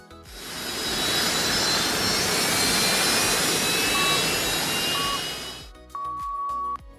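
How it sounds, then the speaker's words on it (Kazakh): A rocket engine roars in a loud, continuous broadband blast that rises quickly and holds steady for about five seconds, then cuts off abruptly into a brief tonal chime. "Зымыранның шуы."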